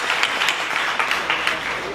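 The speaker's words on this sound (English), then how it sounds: "Let me give a round of applause." Brief applause from a dinner crowd at an anniversary celebration, a dense, steady patter of many hands with a few sharper bursts and voices mixed in.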